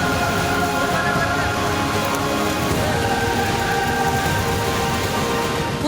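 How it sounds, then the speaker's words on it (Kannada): Heavy monsoon rain pours steadily in Shivamogga, Karnataka, a dense, loud, unbroken hiss filling the whole stretch, with no distinct thunderclap standing out. "ಉತ್ತರ ಕರ್ನಾಟಕ, ಮಲೆನಾಡು ಭಾಗದಲ್ಲಿ ಉತ್ತಮ ಮಳೆಯಾಗಿದ್ದು"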